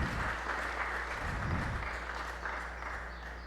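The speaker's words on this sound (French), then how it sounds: "Et je vous invite de les applaudir chaudement" Applause from a church congregation at a Mass, warmly clapping for a choir, a steady dense wash of claps held at moderate level across the whole stretch.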